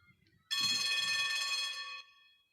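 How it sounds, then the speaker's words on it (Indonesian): A school bell rings in one continuous electric burst lasting about a second and a half, loud and metallic with a bright buzzing ring, then cuts off and fades, preceded by faint low rumble. "Bel pun berbunyi."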